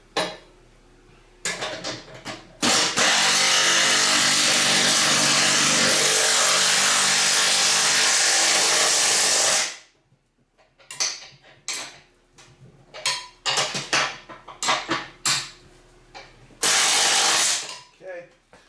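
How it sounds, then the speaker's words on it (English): Bolts and locking nuts tightened on a snow plow during assembly, with a long loud burst of a ratcheting or powered driver and then a string of sharp metallic clinks and short bursts, close and with no talk. "I'm going to go ahead and tighten these both down here"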